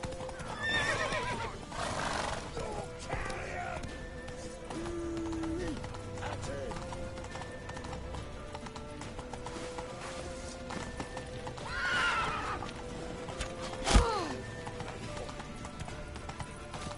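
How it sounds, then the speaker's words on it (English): Horses in the Witcher 3 video game, clip-clopping hooves with several loud neighs and whinnies rising over a busy in-game soundscape, with a sharp impact late on and speech-like voices mixed in. "Grab a horse to the temple."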